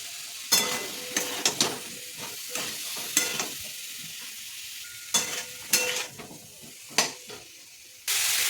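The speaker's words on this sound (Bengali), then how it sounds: "আলুটা মশলার সঙ্গে ভালো করে কষিয়ে নিতে হবে।" Potatoes sautéed with salt, turmeric and Kashmiri chilli powder in a pan, a low sizzle punctuated by repeated sharp scrapes and clinks of a spatula against the metal, then a louder hiss at the end.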